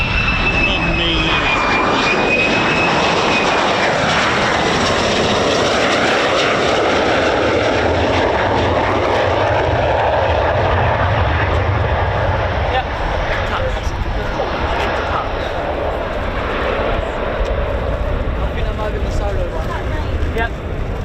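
F-15 fighter jet roaring past an RAF Lakenheath airfield, a loud sustained engine rumble and whine that fills the whole stretch, with people talking underneath.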